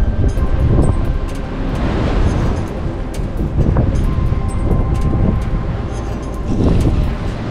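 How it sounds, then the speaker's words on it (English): Strong wind roars and buffets steadily on the Mt. Moosilauke summit, rising and falling in gusts, loud and close, with no voices. "Super, super duper windy."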